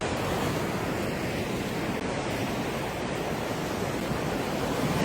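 Sea waves wash continuously in a broad, steady rush of surf noise with wind buffeting the microphone and no voices.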